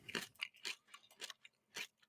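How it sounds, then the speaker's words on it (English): Close-up chewing of food, wet crunchy bites repeating irregularly about every quarter to half second, intimate and right at the microphone with no talk. "I'm sorry for chewing in y'all ear."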